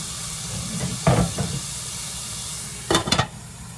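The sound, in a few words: steak sizzling in a covered pan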